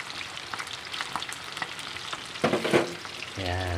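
Lugaw rice porridge cooking in a pan on a rainy day, a steady close bubbling sizzle with occasional stirring scrapes, ending in a brief low hum.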